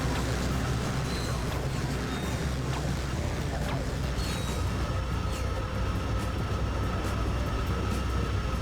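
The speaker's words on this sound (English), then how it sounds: "Not a train I'd like to get on." Train rolling by in the Ratchet and Clank 2 video game, a continuous loud rumbling clatter of wheels and cars that holds steady from start to finish, with game effects mixed over it.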